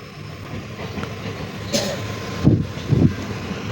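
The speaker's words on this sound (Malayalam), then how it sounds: "അങ്ങനെ ഒറ്റക്കൽ നിന്നും ട്രെയിൻ പുറപ്പെട്ടിരിക്കുവാണ്." A train pulls out of Ottakkal station on the route toward Palaruvi, a steady rumbling roll with a few heavy clunks from the wagons, heard close and without speech.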